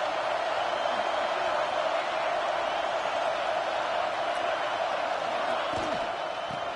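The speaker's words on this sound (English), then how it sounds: "This crowd ready to make its presence known." A college football stadium crowd fills the air with a constant, dense roar of chatter and cheering, steady and broad over several seconds, with a commentator's voice faintly mixed in.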